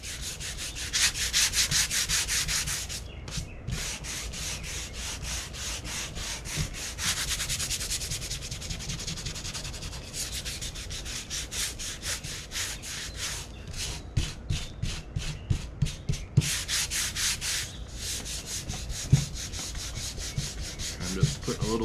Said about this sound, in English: Putting a sandpaper up on its edge so it digs in a little.